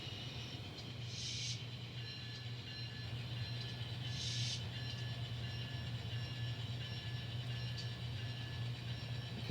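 N scale model train engines run along the track with a steady low mechanical hum and faint rail rumble, punctuated by a couple of brief higher hissing bursts.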